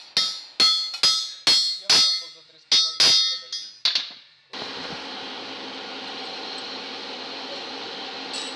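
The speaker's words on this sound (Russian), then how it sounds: "Берет вот такую вот оправку и молотком уверенно забивает стаканчик." A hammer and drift drive an injector sleeve into the cylinder head of a Volkswagen T5 1.9/2.5 TDI engine. About nine sharp, ringing metallic blows land in quick, uneven succession, close and loud, followed by a steady mechanical hiss.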